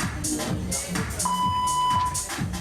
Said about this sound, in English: It's the 1 minute alarm.